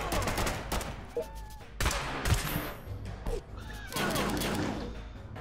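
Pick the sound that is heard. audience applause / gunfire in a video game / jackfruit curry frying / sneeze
gunfire in a video game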